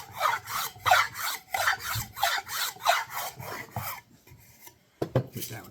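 Sandpaper rubbed by hand across a wooden desktop organizer in quick, even rasping strokes, close and loud, then a pause and a couple of final scrapes.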